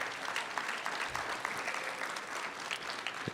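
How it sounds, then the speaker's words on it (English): An awards ceremony audience claps for glass artists who turn soda bottles into blown glass drinkware and vases, a steady dense patter of many hands filling the hall at moderate volume. "So let's give a round of applause for those artists in that program"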